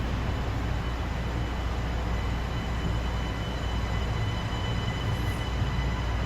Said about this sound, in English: You hear those traction motors.